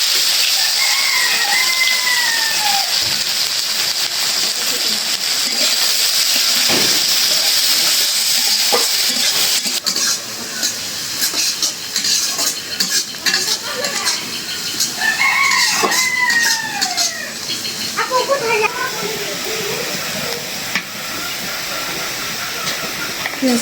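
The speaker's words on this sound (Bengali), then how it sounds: "মাছটা ভালো করে ভেজে নিলাম" Koi fish fry in hot oil with a loud, steady, close hiss that lasts throughout, while a rooster crows several times in the background.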